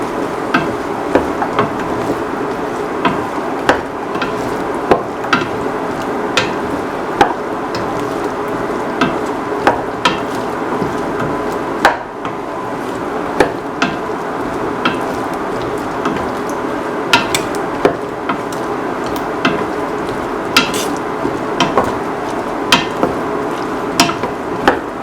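Ash gourd rice being stirred and sautéed in a pan, a steady loud sizzle with frequent sharp clicks and scrapes of a utensil against the pan throughout, no voices.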